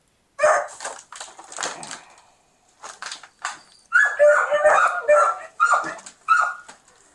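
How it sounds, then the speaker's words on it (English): Several dogs, a husky among them, yip, whimper and bark in short bursts close by, with quiet gaps between clusters of sharp, excited calls; someone talks intermittently in the background. "those are some cute dogs, though. Look at that husky."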